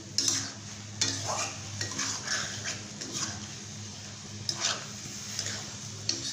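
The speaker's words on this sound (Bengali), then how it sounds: "এখন হলুদের গুঁড়াটা দিয়ে এভাবে একটু নাড়াচাড়া করতে হবে" A spatula stirs turmeric powder into a katla fish curry with potatoes and pointed gourd in a pan, making intermittent scraping strokes over a low, steady hum, with no talking.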